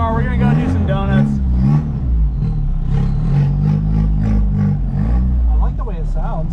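Engine revving under heavy load as the car does donuts at a drift clinic, loud and sustained with rising and falling pitch, while people talk over it the whole time.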